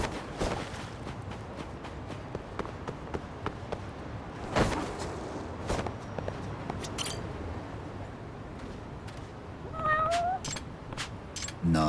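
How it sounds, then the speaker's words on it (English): A cat in the video game Lost Judgment meows a couple of times near the end, short and fairly clear over steady game background ambience and scattered footstep-like taps. "let me go play with the cat real quick"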